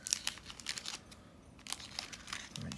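Plastic grab bag being opened and crinkled as comics are pulled out, making soft close rustling and crackling in short uneven bursts.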